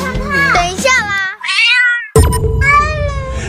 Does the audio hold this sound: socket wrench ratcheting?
no